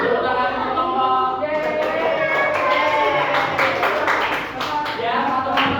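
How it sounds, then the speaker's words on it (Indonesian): A group gets steady, loud applause for nearly six seconds, with cheering and chattering voices mixed into the clapping. "tepuk tangan untuk kelompok"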